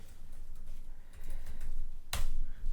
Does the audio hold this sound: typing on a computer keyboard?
yes